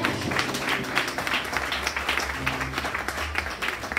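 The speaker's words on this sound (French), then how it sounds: "C'est pourquoi on se matin acclame très fort pour tous ces témoignages" A church congregation applauds testimonies during a French-language morning service, dense steady clapping with tonal music or voices underneath, moderately loud throughout.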